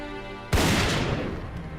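A single sharp rifle shot from a buffalo hunt, one loud blast after a low hum, followed by a long, rumbling decay.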